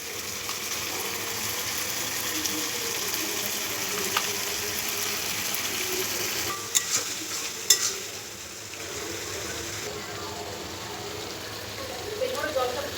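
Spices sizzle and fry in hot oil in a wok for a spicy Katla fish curry, a steady close crackle running throughout with a few brief clinks of a utensil stirring midway.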